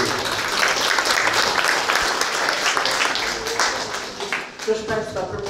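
Applause from an audience, a steady wash of many hands clapping that thins briefly near the end before picking back up.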